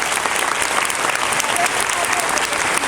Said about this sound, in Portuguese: Vamos dar uma salva de palmas a Nossa Senhora